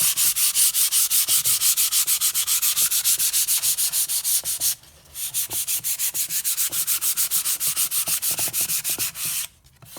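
Sandpaper lightly rubbing along the edge of a stained wooden cabinet in fast, even back-and-forth strokes, with two brief pauses.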